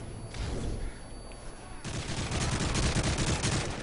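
Gunfire in the Call of Duty Modern Warfare 3 campaign, dense rapid bursts of automatic shots that thicken into a loud continuous fusillade in the second half.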